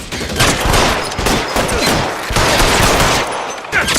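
Suppressing gunfire in L.A. Noire rattles out as loud, close, rapid bursts of overlapping shots, a dense fusillade with short gaps between volleys.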